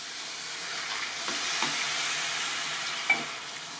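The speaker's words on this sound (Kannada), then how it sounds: "ನೀರ್ ಹಾಕಿದ್ಮೇಲೆ ಇದನ್ನ ಮಿಕ್ಸ್ ಮಾಡ್ಕೊಳ್ಳೋಣ." Crab sukka is mixed after water has been poured in, a low steady hiss of cooking with a few soft scrapes and one brief clink near the end, quiet and alone.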